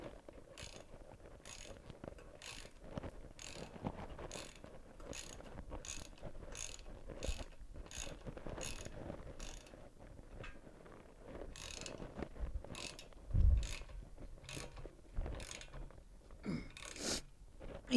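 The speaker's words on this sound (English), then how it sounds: "A lot of ringy metal tonight." Metal parts of a new grinder clink and ring faintly while it is assembled, producing a steady run of light regular clicks and taps with an occasional louder knock.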